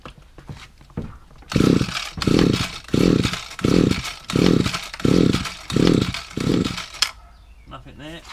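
A petrol hedge trimmer's small two-stroke engine being tested during a repair, revving loudly in eight rhythmic throttle bursts with brief dips between, then cut off; people talk quietly before it starts.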